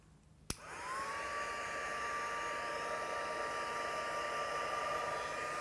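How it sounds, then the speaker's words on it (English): A heat gun dries a scrapbook layout. After a sharp click it switches on into a steady, loud, continuous blowing roar with a faint whine that holds unchanged to the end, with no talk. "I'm just going to dry that off with a heat gun quickly."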